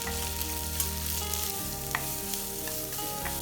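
Onions sizzle steadily in a hot pan for potato chilli manchurian while a spoon stirs and scrapes now and then. The sound is continuous and close, with no voices.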